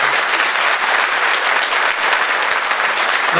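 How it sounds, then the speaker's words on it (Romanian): A concert audience in Moinești applauds the town's mayor, loud continuous clapping from a large crowd that holds at full strength throughout without any talk. "Dragul nostru prieten, primarul din Măinești, vreau să-l aplaudați că merită."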